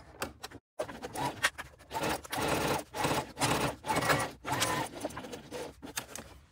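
A sewing machine stitches the side panels of a tote bag at a 3/8-inch seam, running in several bursts of rapid needle clatter separated by short pauses, close and clear.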